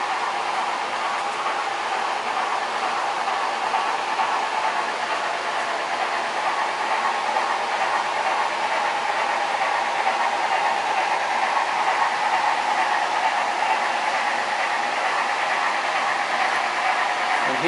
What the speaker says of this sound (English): we can hear in the distance the rumble of a train